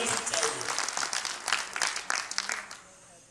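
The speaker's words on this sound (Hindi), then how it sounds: "एक बार दोनों के लिए जोरदार ताली" An audience claps loudly, a dense burst of applause that swells and then tapers off over a few seconds.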